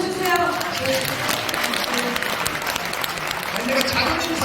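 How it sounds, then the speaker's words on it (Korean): Audience applause fills a press conference hall in Sogong-dong, Seoul: a steady, dense clatter of many hands clapping throughout, loud and close, with voices mixed in. "박수 좀 쳐주세요."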